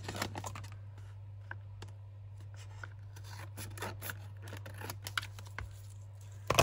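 Scissors snip through card at a crafting table, a few quiet, close cuts scattered over a low steady hum, with no speech.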